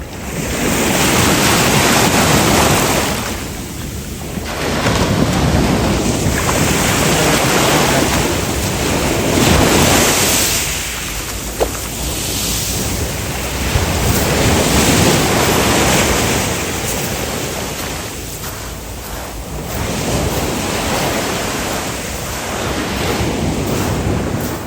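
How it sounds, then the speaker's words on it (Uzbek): Sea waves breaking on an open shore in Alanya: repeated surging washes rise and fall in slow swells, loud and close, with heavy wind buffeting the microphone throughout. "Mana to'lqin."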